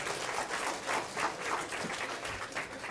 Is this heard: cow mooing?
no